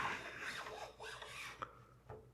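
A power sander with coarse grit is pressed against wood spinning on a lathe while a cake stand is turned, giving a quiet, uneven rasping rub that rises and falls in short strokes.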